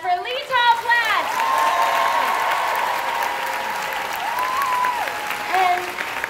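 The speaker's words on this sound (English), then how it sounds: "One more round of applause for Lettal Platt." Sustained audience applause fills a fashion show hall while a voice with gliding tones carries over the steady clapping wash.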